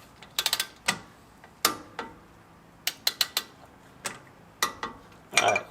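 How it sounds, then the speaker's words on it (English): Torque wrench tightening a nut to 43 foot-pounds on a Lexus front suspension: sharp separate ratcheting clicks and metallic ticks in uneven bursts, close and crisp, with no voices. "we're going to torque it down to 43 foot-pounds."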